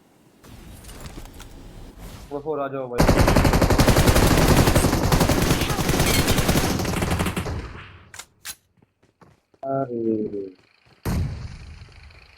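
Automatic weapon fire in the PUBG battle game comes in a long, loud, dense burst of rapid shots, followed by a few shorter bursts and single reports, with players talking over the action.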